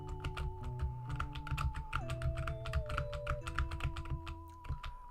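Computer keyboard keys are tapped in quick, uneven bursts to move in a game, a close, crisp clicking layered over steady game music.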